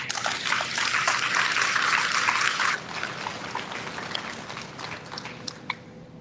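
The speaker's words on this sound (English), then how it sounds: "Can you guys give yourselves a round of applause?" Dense applause from a crowd at a community meeting on disaster recovery, loud for the first few seconds, then thinning into scattered lighter clapping that fades out.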